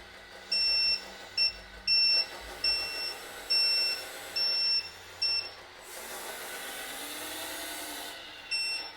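Repeated high electronic reversing beeps from a 1/14-scale Hitachi ZW370 RC toy wheel loader, pulsing at a steady pace, close and clear, with a short whirring stretch partway through.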